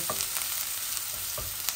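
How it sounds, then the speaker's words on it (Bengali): Oil sizzles steadily as tilapia fry in a pan, with a couple of soft clicks from a spatula. "এই মাছগুলা ভাজা ভাজা হয়ে যাক"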